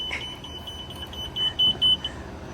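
A Winnipeg Transit bus ramp deploys with a series of short, high electronic warning beeps repeating steadily over a low mechanical hum, growing louder toward the end.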